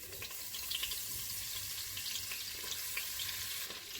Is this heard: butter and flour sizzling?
yes